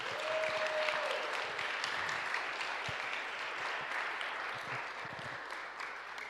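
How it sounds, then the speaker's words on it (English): An audience at a youth leadership mock legislative session gives a steady round of applause, dense clapping that holds at an even level throughout with a brief tonal whine near the start. "Can we please give our youth counterparts a round of applause?"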